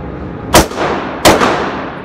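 A Taurus PT1911 pistol fires two loud, sharp shots about three quarters of a second apart, each followed by a short decaying echo outdoors.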